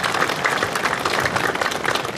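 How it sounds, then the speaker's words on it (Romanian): Dense, continuous audience applause at an ALDE political rally in Dărmănești, a steady wash of many hands clapping at full strength throughout. "Haideți să-l mai aplaudăm o dată,"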